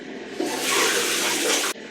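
Running water from a tap splashes into a sink as cleanser is rinsed off a face, a loud broadband rush that starts abruptly, holds steady for just over a second, then cuts off.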